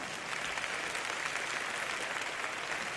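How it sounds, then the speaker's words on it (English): An audience at a maternal and infant health summit gives panelists dense, sustained applause, a continuous wash of many hands clapping at steady volume. "give those incredible women another big round of applause"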